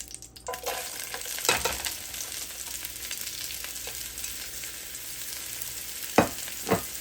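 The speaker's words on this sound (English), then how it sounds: "So our grease is over here popping." Grease frying fish in a pan, hissing steadily with sharp pops and crackles scattered throughout, several louder pops standing out, close by and without talk.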